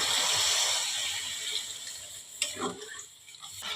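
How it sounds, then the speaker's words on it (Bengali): Water is poured into a pan of cooked-down fish roe curry, giving a bright, rushing pour followed by a few clinks and bubbling sizzle, close and moderately loud. "আমার কষানো হয়ে গেছে, এবারে আমি জল ঢেলে দিলাম।"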